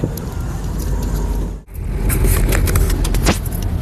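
A car drives along a busy road crowded with vehicles and lorries, with loud steady road and engine noise, a brief dip as something passes, then continuing rumble and whooshing traffic.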